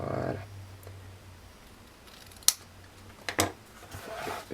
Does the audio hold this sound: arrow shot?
no